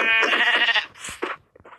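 Sheep bleating in the blocky survival game Minecraft: a loud, close, wavering bleat followed by a couple of shorter clipped bleats, with no one talking over it.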